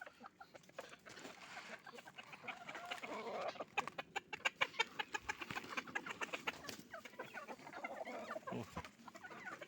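Chickens clucking at feeding time on a small farm while feed is scattered: a close, busy flock of overlapping clucks and short calls that builds to a denser chatter in the middle, with no talk.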